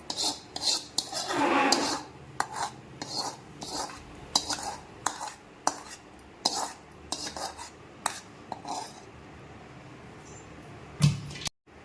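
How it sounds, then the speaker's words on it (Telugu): Tamarind mixture being stirred into cooked rice for pulihora, heard as a series of close, sharp clinks and scrapes of a spoon against a vessel, with soft mushy mixing in between and no talk. "పక్కకు తీసుకొని అన్నంలో ఇలా కలుపుకోవాలి."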